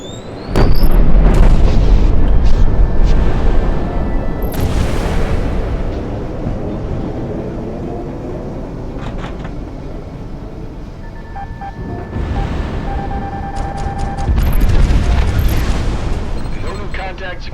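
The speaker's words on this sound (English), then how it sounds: "Missile on the way." Missiles explode in the aerial combat video game Project Wingman with heavy, continuous booms and rumbling blasts, loudest at the start and again near the end, while radio voices talk over the din.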